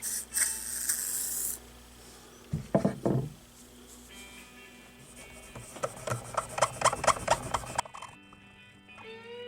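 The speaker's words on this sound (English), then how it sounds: "I want to clean this off with a little wood cleaner just to get the gunk off" Scratchy rubbing and rasping as wood cleaner is scrubbed onto an electric guitar body, with bursts of brisk back-and-forth strokes and a few knocks, fairly close.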